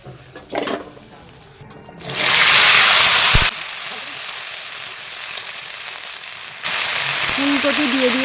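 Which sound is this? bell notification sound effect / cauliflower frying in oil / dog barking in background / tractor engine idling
cauliflower frying in oil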